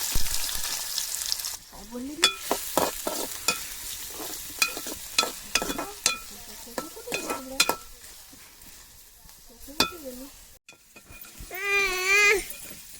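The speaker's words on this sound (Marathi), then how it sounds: "काली मिरी तेजपत्ता आणि लवंग दालचिनी असे टाकलेली तेलामध्ये कांदा टाकते" Onion dropped into hot oil with black pepper, bay leaf, cloves and cinnamon, sizzling and frying on a village chulha, with voices and clatter around it and a voice near the end.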